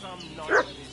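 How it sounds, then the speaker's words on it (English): A dog in a video game gives a single short bark or yip at mid-distance, briefly rising over a quiet ambient background. "What's that dog making such a fuss about?"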